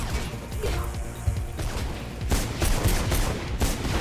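Video game pistol shots, an inaccurate handgun firing a few sharp cracks in quick succession over a busy game soundscape, moderately loud and close.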